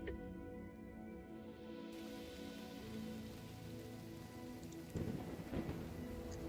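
Steady rain pours through a lightning-weather scene in a video game, with thunder rumbling low beneath it. The downpour runs throughout and swells noisier toward the end, with no voices.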